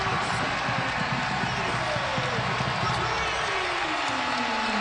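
College basketball arena crowd at a Maryland versus Wisconsin game, a sustained distant roar of cheering and applause under steady play-by-play commentary.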